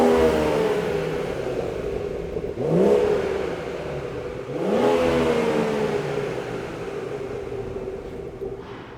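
A 2018-on BMW 440i with a stock exhaust revving at idle, two distinct blips rising and falling in pitch over a steady low drone, heard fairly close with no talking.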